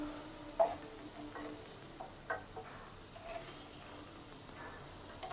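Potato pieces fry lightly in hot oil for a paneer prawn masala, a soft continuous sizzle with faint ticking clinks of a utensil now and then, quiet and steady without talking.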